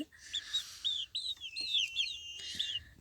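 Growing chicks peep and cheep in a busy cluster of high chirping calls, close by and fairly quiet.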